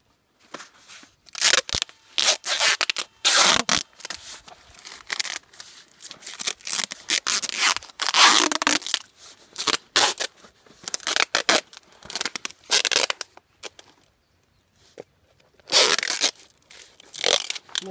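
Cardboard and tape are wound tightly around a plant seedling being packed for long-distance shipping, giving repeated close tearing and scraping bursts with short pauses between them.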